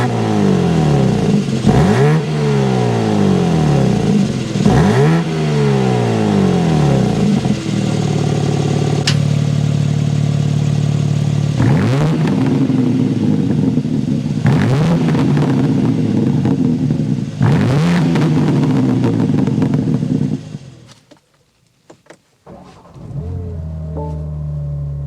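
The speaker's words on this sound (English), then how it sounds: "We need to go inside and start it up so you can hear that exhaust note." A 2024 BMW M2 coupe engine revs hard again and again, loud and close, its exhaust rising and falling in sharp bursts before cutting off, then idling quietly.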